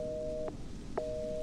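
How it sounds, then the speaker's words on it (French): A steady electronic telephone tone in Resident Evil 7 cuts off, leaves a half-second gap, then resumes, like a busy or dial signal, clear and alone. "Il y a de la tonalité"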